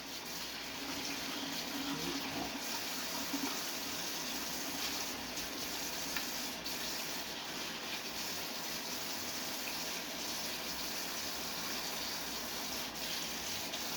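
Steady running tap water pours over a dirty kitchen utensil being rinsed, a continuous splashing gush that holds at an even, moderately close level throughout with no voices.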